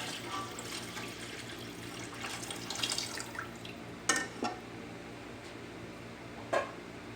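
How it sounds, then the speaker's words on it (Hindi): Water poured into a pot while making chicken pulao, a soft splashing pour of moderate level with a few brief louder splashes toward the end, no talking. "अब मैं इसमें पानी ऐड करूँगी।"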